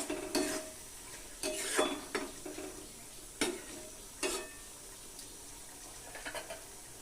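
Prawns with two slit ripe green chillies are stirred in a pan, giving faint, scattered scrapes and clinks from a spatula over a soft background hiss, each stroke brief and separated by quiet gaps.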